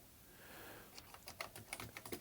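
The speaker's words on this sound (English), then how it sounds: "my keyboard, at least the keys that are present here seem to work" Keys clacking on a Sinclair ZX Spectrum +2 home computer keyboard under repair, a quick irregular run of close, crisp taps after a brief soft start, no talking.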